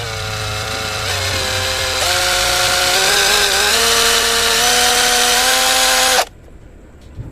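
A cheap cordless impact wrench runs steadily with a whining motor tone whose pitch steps up partway through. It cuts off abruptly near the end, leaving near silence.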